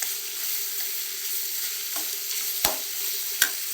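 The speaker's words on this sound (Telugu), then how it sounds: "ఫ్రై అవుతున్నాయండి. బాగా ఫ్రై అవ్వాలి." Spices fry steadily in a pan for bagara rice, a soft continuous sizzle with two sharp clicks near the end and no talking.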